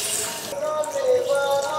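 Water poured into a cooking pan of potol chingri (pointed gourd and prawn curry) after the spices are fried down, a brief steady splashing pour with a bright hissing rush.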